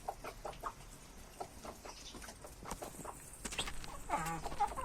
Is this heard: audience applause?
no